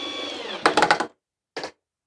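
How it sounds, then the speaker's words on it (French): Power drill driving screws into the wooden base of a beehive feeder, one short whirring burst with stuttering pulses followed by a brief second burst after a pause of silence. "On visse en bas."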